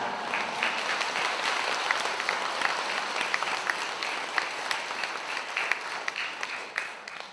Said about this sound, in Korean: 쑥스러우시고 박수까지 쳐주세요.